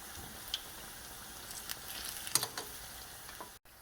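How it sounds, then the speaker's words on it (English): Zucchini flowers frying in hot oil, giving a steady soft sizzle with scattered faint pops and crackles, one brighter spatter burst near the end, with no voices. "Okay, so I'm still frying."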